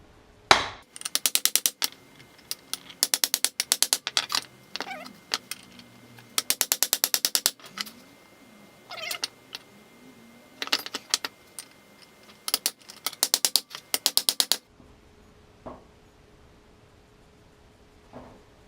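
Hammer-and-punch work on a Mazda RX7 FC rear steer assembly, driving out a bushing: bursts of rapid sharp metallic taps in repeated clusters, close and loud, with short pauses between runs and no talking.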